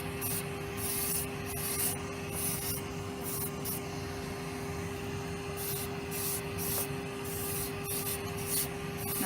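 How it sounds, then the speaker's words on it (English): A podiatry drill fitted with a sanding cap whines at a steady pitch while it works over heel skin, with short bursts of scratchy rubbing coming and going throughout, close up and fairly quiet. "never stay in one spot for too long with this sanding cap"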